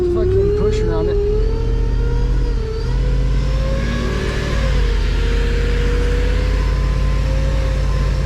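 A wheel loader plowing a supermarket parking lot after a spring snowstorm, its diesel engine revving up and holding a loud, rising mid-pitched roar with a brief dip partway through.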